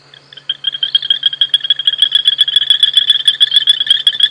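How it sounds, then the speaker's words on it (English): Frogs calling at night on an African safari, a loud rapid pulsing chorus of repeated high croaks that starts abruptly and continues close by, with a faint low hum beneath. "you can just hear the frogs"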